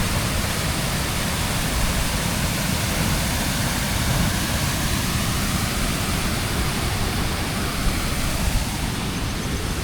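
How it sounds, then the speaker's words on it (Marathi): Water overflowing a full dam at Malshej Ghat during the monsoon makes a steady, loud, broadband roar that runs unbroken for the whole stretch, with no voices over it. "डॅम बघा पूर्ण भरून वाहतोय"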